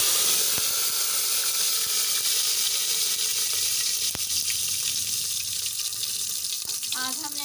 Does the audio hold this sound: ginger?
yes